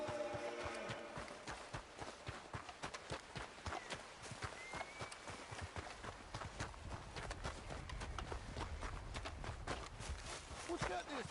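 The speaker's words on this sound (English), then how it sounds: "What's wrong with this horse?" Horse hooves clip-clop in steady walking rhythm in a PS4 video game, mid-loud under game ambience and music, with a voice talking over much of it.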